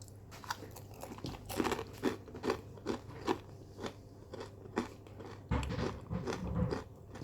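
Crunchy pão de queijo cheese bread, crisp outside and soft inside, chewed close to the mic, with rhythmic loud crunching bites repeating about every half second, with no talking.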